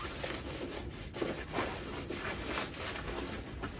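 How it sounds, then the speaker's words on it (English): A zipper pulled closed on a decorative pillow cover trimmed with brush fringe, heard as a steady close rasping scrape running throughout with slight swells, no talk. "and zipping those closed."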